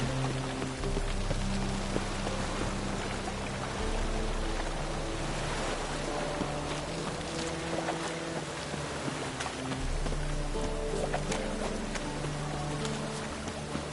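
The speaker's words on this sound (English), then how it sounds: "looks like rain." Steady rain hisses across an outdoor scene in The Witcher 3 video game, a constant wash of patter with low ambient tones and faint wind underneath, no talking.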